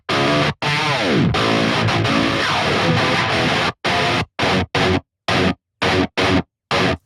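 Heavy distorted rhythm guitar from a blue Epiphone Prophecy EM2 played through Amplitube amp simulation with a 5150 amp model, loud and dense, chugging steadily before breaking into short stabbed chords separated by abrupt silences.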